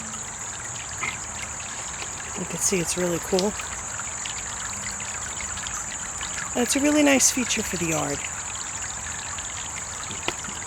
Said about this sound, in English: A water feature for your yard is always a really fun thing to have.